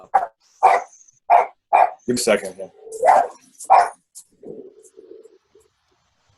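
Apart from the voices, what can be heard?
Havanese dog barking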